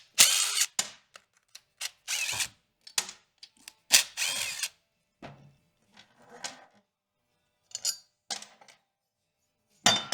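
Tools taking apart a failed electric coolant pump from a 2018 Toyota Camry, heard as short bursts of drill or ratchet noise and clicks broken by silences, close and irregular.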